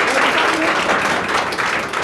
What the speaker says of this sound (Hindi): जोरदार ताली मारिए थोड़ा सा के लिए।